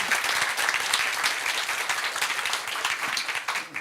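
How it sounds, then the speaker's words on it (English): A conference audience at a European city sustainability event claps steadily for about four seconds, a dense, even patter of many hands filling a hall. "Applause for that."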